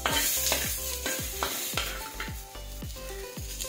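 Ground spice paste sizzles in a little oil in a pan for a Bhogi vegetable dish, with a steady crackling hiss broken by repeated scraping stirs and low spoon knocks.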